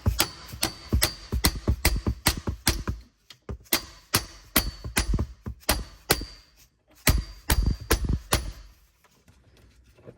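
Dead blow hammer striking a socket extension set against an alternator bolt on a Porsche Cayman 987, a steady run of sharp metallic blows in quick groups with short pauses between, close and loud.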